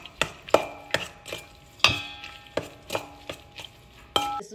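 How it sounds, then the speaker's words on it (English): Food being mixed with sauce and seaweed in a bowl, giving a series of sharp clinking and scraping strikes at an irregular rhythm, close and fairly loud, with no talk. "now we're just gonna mix this all together"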